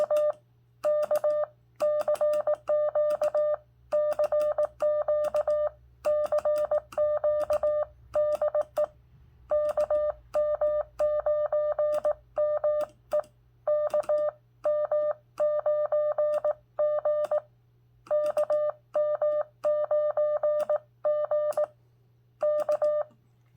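Morse code CW tones sent on a ham radio beep in clear, steady on-off bursts of dots and dashes, close and even in pitch over a low constant hum, with no talking.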